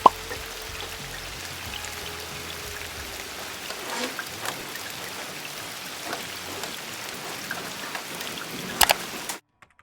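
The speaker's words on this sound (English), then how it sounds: "It's raining out." Steady patter of rain falling on a sailboat during an ocean passage, a continuous dense wash with scattered louder drops and a brief sharper clatter near the end before it cuts off.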